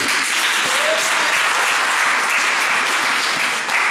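A church congregation applauds, dense sustained clapping from many hands filling the room at steady loudness, with a few voices mixed in.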